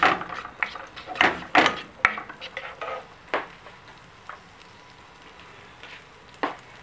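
One small onion frying in two tablespoons of butter in a pan: irregular bursts of sizzling and stirring scrapes, loud at first, then thinning to sparse crackles.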